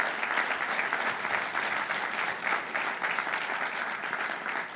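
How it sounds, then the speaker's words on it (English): An audience at the 2024 PsiQuantum quantum campus announcement applauds two House leaders with steady, dense clapping that holds at an even level for the whole stretch. "We have to give a round of applause to Leader Cam Buckner and Leader Marcus Evans."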